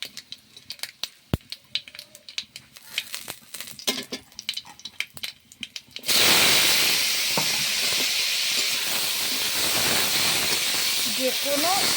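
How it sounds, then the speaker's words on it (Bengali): Boiled eggplant and pumpkin peel hit a hot pan of garlic fried until reddish, with scattered light kitchen clatter first, then a sudden loud, steady sizzle that hisses on without pause. "এখন এর মধ্যে এই যে সবজিটা যেটা সেদ্ধ করে রেখেছি দিয়ে"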